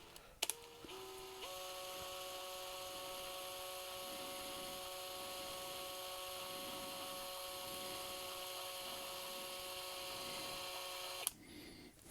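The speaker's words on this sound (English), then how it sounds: "drill a tiny little hole" A small drill hums at a steady, high-pitched whine while boring a tiny hole in a piece of a Commodore VIC-20 project, starting with a few quick revs and ending with a sharp click as it stops.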